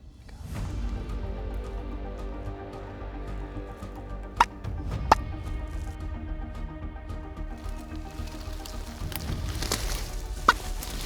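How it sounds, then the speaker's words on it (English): Turkeys gobbling in the distance, a few rattling calls breaking through steady outdoor ambience, with sharp brief bursts standing out at a couple of moments. "these turkeys are right here. They gobble for a while and then they just shut off."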